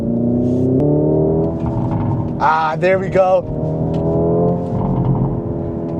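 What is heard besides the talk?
Hyundai Ioniq 5 N in N mode, accelerating with burbles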